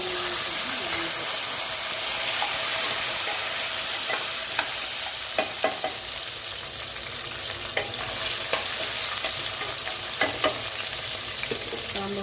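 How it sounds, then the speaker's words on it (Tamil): Small sambar onions sautéing in oil with browned garlic in a pan for a fenugreek kuzhambu, a steady loud sizzle and hiss with occasional clinks of a stirring spoon against the pan. "வெங்காயம் நல்லா வதங்கி வரட்டும்"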